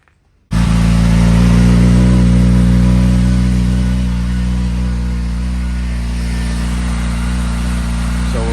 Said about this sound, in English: I can show you guys a noise comparison with the valve closed versus it being fully open